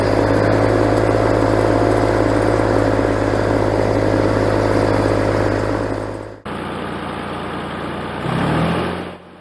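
A Massey Ferguson 135 tractor pulls a duckfoot-tined cultivator through hard, previously unploughed field soil, its engine a loud, steady close drone that abruptly shifts to a lighter note and then swells again near the end.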